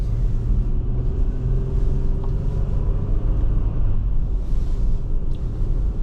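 A car drives along curvy Brickyard Road, heard from inside as a steady, loud low engine and road rumble with constant tyre noise and no pauses, without any talk.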